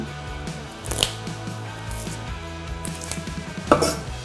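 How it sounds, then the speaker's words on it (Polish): A knife chops fresh rosemary leaves together with salt on a board, giving a few sharp, irregular taps spread over a few seconds against a faint kitchen background. "Przesiekamy to razem z solą."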